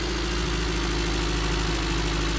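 Pickup truck engine from the driving game Pickup, heading onto a dirt road, giving a steady, even low drone with no change in pitch and no voices.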